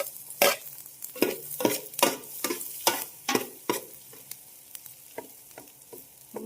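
Garlic sizzles in hot oil for a mung bean dish while a spoon stirs it, about a dozen sharp scraping strokes in an uneven rhythm over a steady frying hiss, close and without talk.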